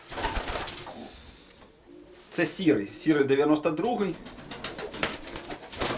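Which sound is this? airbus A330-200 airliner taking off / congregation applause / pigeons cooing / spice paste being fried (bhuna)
pigeons cooing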